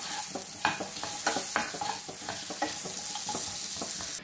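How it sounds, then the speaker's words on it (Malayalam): Ripe tomato sautéing in oil in a pan for a curry masala: a soft continuous sizzle broken by repeated scraping stirs of a spoon against the pan, close and clear. "ഇനി തക്കാളിയും കൂടി ഒന്ന് വഴന്നു വരട്ടെ."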